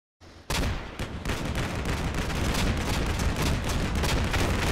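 A Bradley fighting vehicle in Combat Mission Black Sea pours heavy continuous fire into woods, a dense roaring barrage of rapid shots and booms starting abruptly and staying loud throughout.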